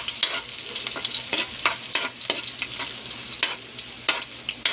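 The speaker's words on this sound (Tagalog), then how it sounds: "nagpainit na tayo ng mantika mga lods para igisa natin yung ating bawang" Garlic sautés in hot cooking oil for a Filipino lunch dish, a steady bright sizzle broken by repeated scraping stirs of a spatula, close and fairly loud with no voices.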